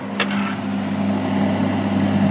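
A 12V portable fridge-freezer compressor gives a low, steady motor hum that drones continuously at close range, with a brief rustle near the start and no voices.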